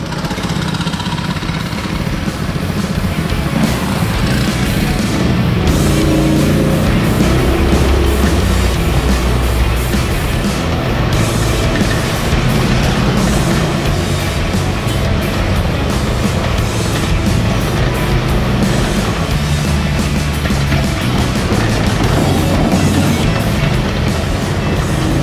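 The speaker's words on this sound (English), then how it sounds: "So we got Leila's go-kart fixed." Small go-kart engine running after its loose chain was tightened, a loud continuous rough drone with rattling mechanical clatter that stays close and steady throughout, with no voices.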